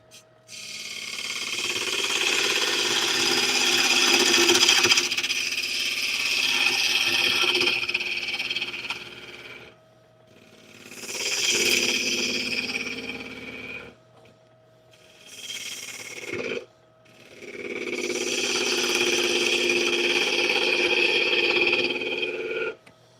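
A 600 grit stone wheel grinds in bursts, a loud harsh rasping that runs several seconds, stops, then returns three more times with near-silent gaps between.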